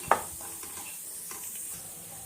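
Dried red chillies drop into hot oil with a sharp clink, then a faint, even sizzle hisses on quietly with light stirring sounds.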